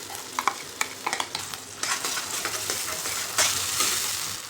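Yogurt stirred into a tomato masala frying in a pan, with steady sizzling and scraping spoon strokes, close and clear, with no talking.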